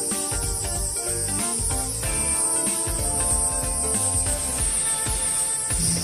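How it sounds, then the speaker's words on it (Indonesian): A loud, continuous cicada chorus buzzes high and steady throughout in a North Bandung forest, layered over a dense background of other sound. "Ini suara tonggeret seperti suara orkestra, ramai sekali."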